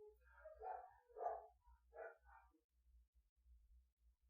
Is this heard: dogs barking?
yes